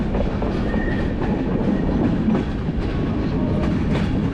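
A fast train travelling in Bangladesh, heard from on board as a loud, steady rumble with faint clickety-clack of the wheels throughout, no talking.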